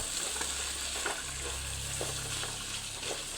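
Beef innards sautéing in a pan for papaitan, a steady close sizzle with a low background hum and faint scrapes of stirring spread through.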